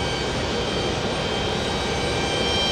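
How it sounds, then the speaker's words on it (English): British Airways jet climbing away on takeoff at JFK, a steady, loud broadband engine roar holding without a break from start to finish. "Previous takeoff was British Airways."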